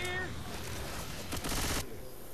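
Rapid gunfire from a player shooting at a Boomer in the game Left 4 Dead 2 rattles in a dense burst of shots, moderately quiet, with a sharper cluster near the end.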